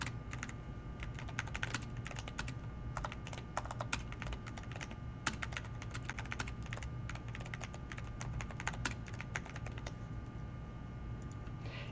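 Steady, close typing on a computer keyboard while code is written, with rapid irregular key clicks and taps continuing alone throughout.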